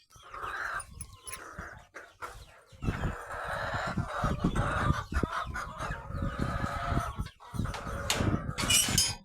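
Chickens on a goat farm cluck and squawk continuously while pecking at scattered sorghum grain, a busy, fairly loud flock close by with overlapping calls and no talk.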